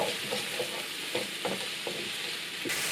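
Onions and mushrooms fry in oil in a pan, giving a steady close sizzle with a few soft stirring scrapes over three seconds, no voices.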